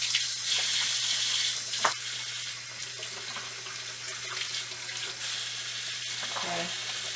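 Four eggs rinsed under running tap water before baking bread pudding, a steady, close hiss of flowing water with faint clinks and shifting splashes throughout.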